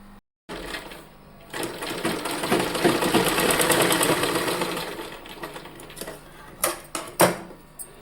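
A sewing machine stitches a baby's cap from warm wool fabric, whirring steadily for several seconds after a short pause, then slowing into a few sharp clacks and knocks near the end.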